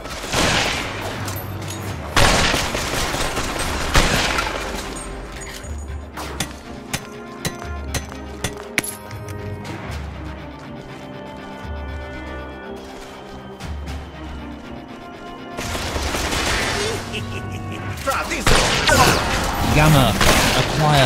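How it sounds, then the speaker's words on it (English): Gunfire and combat effects in the co-op game Killsquad, rapid shots, thumps and crashes layered over game music, with a voice speaking in between. "Shoot them down."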